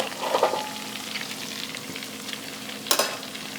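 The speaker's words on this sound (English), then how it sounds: "You can hear the sizzle." Close sizzling and crackling of shrimp frying in garlic in a hot pan, with a few clinks of a utensil stirring against the pan.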